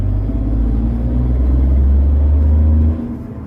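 A Tata Punch car engine pulls hard through the gears, a steady close rumble that builds, holds, then drops off sharply near the end as the gear changes.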